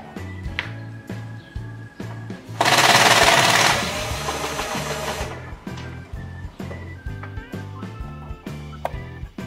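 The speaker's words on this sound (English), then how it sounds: "and start drilling" Power drill boring mounting holes for a Minn Kota Ulterra trolling motor, one loud burst of about three seconds breaking into a steady mechanical clatter and knocking that runs through the rest.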